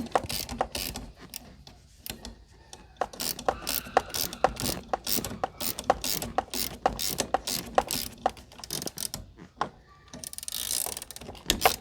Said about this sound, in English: Move my wrench a little bit, it's getting caught.